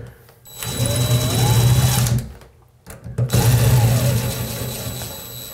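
A power screwdriver tightens screws on a plastic shower valve, giving two loud buzzing bursts of motor whir separated by a short pause, close by with no talking.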